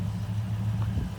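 A 1971 Rover P5B 3.5 coupe with a Buick V8 idles quietly at a short distance, a smooth low steady hum with slight fluctuation.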